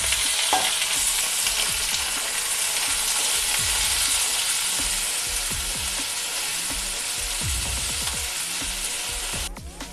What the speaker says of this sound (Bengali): এবার লঙ্কার কালারটা যখন এরকম আসবে তখন আমি আলু দিয়ে দেবো।